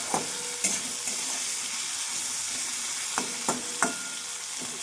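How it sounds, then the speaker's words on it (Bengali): Vegetable stalks fry with salt and turmeric in a pan for a poppy-seed stalk dish, a steady soft sizzle broken by several sharp clicks of stirring. "ডাঁটাগুলোকে একটু বেশি করে লাল লাল করে একটু নুন হলুদ দিয়ে ভেজে নেবেন।"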